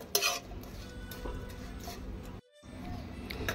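A bread dish is stirred in a pan with a spoon, giving quiet clinks and scrapes of utensil on metal under a low background rumble, broken by a short moment of silence.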